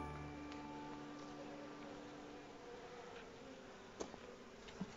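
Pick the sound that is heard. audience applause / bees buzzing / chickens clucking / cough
bees buzzing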